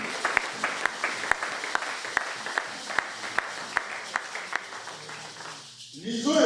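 A church congregation claps in a steady rhythm, the sharp claps evenly spaced, mixed with voices throughout and a louder swell at the very end.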